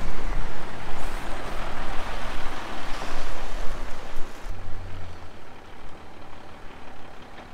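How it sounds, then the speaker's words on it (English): Strong gusting wind of 30 to 40 mph roars steadily outdoors at a gravel hauling site, a loud broadband rush with surges, and a low engine rumble joins partway through. "30 to 40 continuous winds today"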